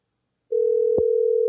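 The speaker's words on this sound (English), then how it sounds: "Phone ringing." A telephone line tone sounds while a caller is being connected to a call-in show: half a second of silence, then a steady, loud, unbroken tone with a brief click partway through.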